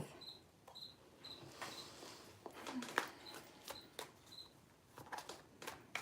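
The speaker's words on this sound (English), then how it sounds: "the crickets are always going here" Crickets chirp in short repeated pulses at a steady rhythm, fairly close, over faint rustling and scattered clicks.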